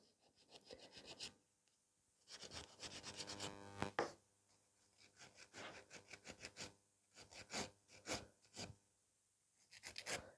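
A nail file rasps across a coffin-shape fiber gel nail to reshape it, close and quiet, in bursts of quick back-and-forth strokes separated by brief pauses.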